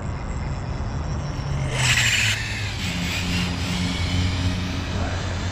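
An HPI RS4 RC car on a newly fitted sensored motor whines and revs steadily, with a brief louder burst as it passes close by, then settles back into a continuous motor hum.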